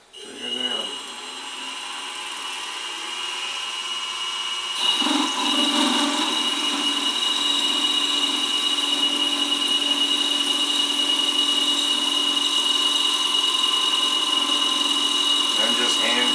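A metal lathe with a boring head cuts under slow hand feed, a steady high-pitched whine and hum that starts abruptly and holds continuously close by, with a brief machine startup before it.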